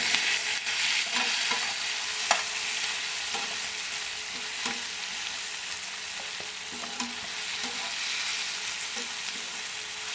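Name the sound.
ingredients sautéing in a pan for catfish curry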